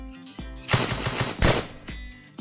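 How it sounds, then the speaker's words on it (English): Bursts of rapid minigun fire in a video game, two dense loud volleys around a second apart, close and harsh, with faint tonal game sounds between them. "That is a minigun coming in"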